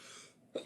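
A single short, sharp sneeze bursts out after a moment of quiet room tone.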